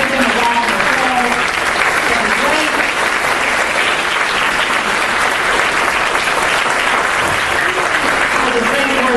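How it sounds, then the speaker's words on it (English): An audience at a school reopening ceremony for an early childhood center breaks into sustained, dense applause, with many hands clapping steadily for several seconds. "Let's ask him to stand and give him a round of applause"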